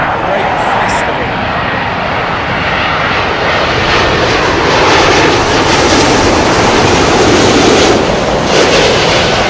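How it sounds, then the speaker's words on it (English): A British Airways Boeing 777-200 in special livery arriving at London Heathrow, with steady, loud jet engine roar throughout and a voice talking over it. "It is the British Airways 777-200 special livery, Great Festival."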